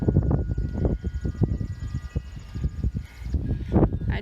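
Outdoors in a yard with hay racks, gusty wind buffets the microphone in an uneven, rumbling rush of low thuds and flutters, fairly close and continuous, with no talking.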